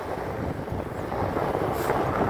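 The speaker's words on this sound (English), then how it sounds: "Yeah, it's getting pretty windy." Strong wind buffeting a microphone while riding outdoors along back roads, a continuous low rumbling roar that swells slightly toward the end, with no voices.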